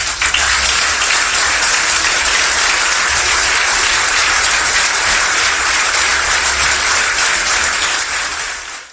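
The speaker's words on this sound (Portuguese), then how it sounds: "Esse merece muitos aplausos mesmo" Sustained applause from a large crowd honoring footballer Andrés Iniesta at his farewell from his club, a dense and loud wash of clapping that holds steady for the whole stretch and eases slightly at the very end.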